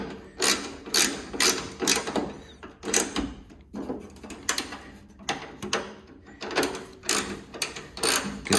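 A ratchet clicks in repeated close bursts as it tightens the tailgate cable bolts on a Ford Ranger, with short pauses between strokes and no talk.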